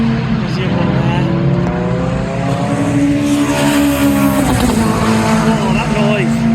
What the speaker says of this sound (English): That K28-2 engine in that FN2 sounds so good.